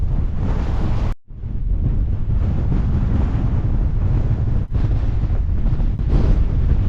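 Strong, gusty wind roars into the microphone outdoors near open water, a loud, continuous rushing buffet that drops out briefly twice before surging back.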